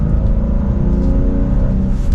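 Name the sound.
BMW M2 manual exhaust while downshifting into M1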